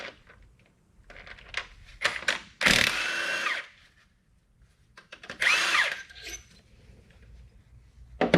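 Power tool backing bolts out of a 2.5L Duratec engine being converted for an NC Miata, with two loud whirring bursts a few seconds apart amid quieter clinking handling sounds.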